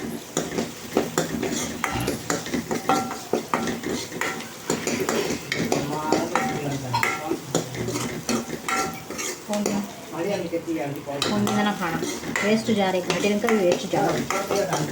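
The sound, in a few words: onions sautéing in a pan with curry leaves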